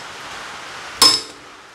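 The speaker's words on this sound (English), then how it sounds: "you put it in here and you hit it with a hammer right here on the end" A single sharp metallic clink of a hammer striking a tool to loosen a front brake rotor screw on a 1997–2001 Honda CR-V, one close hit with a brief ring over a steady background hiss.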